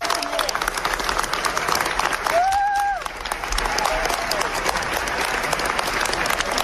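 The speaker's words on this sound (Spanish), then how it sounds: "entre aplausos del colectivo LGTBI" Members of the LGTBI collective applaud in the Spanish Congress after passage of the trans law, a dense and steady wave of clapping with a brief voice rising through it midway.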